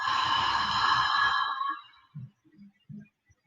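A long audible exhale through open lips during a yoga breathing exercise, a breathy rushing sigh lasting over a second close to the mic, followed by a few soft quiet mouth and breath sounds.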